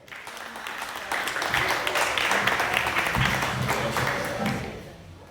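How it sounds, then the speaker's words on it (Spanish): A church congregation breaks into applause that swells within the first second, holds dense and steady, and then tapers off near the end. "un aplauso"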